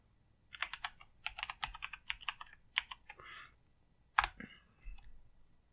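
Rapid bursts of computer keyboard keystrokes as a password is typed at a login prompt, close and crisp with uneven rhythm, a short pause and a final louder clack near the end; no voices.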